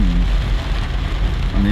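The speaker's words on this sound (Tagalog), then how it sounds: "pagkita sa video malakas talaga yung ulan dito guys" Heavy rain drums steadily on a moving car during a typhoon drive along a road near Angeles and Mabalacat, a dense, loud, continuous wash close around the vehicle.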